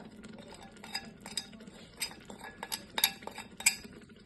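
Utensils scraping and clinking against a rice cooker pot while tomato and chaat masala are stirred in, irregular metallic taps and chinks with a few sharper clinks, close and fairly loud with no talking.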